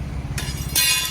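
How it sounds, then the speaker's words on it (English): A tyre bead popping onto a wheel rim while tyres are changed on a new farm machine, two sharp, bright bursts in quick succession over a low rumbling background, close and loud. "Just see it popping the bead there."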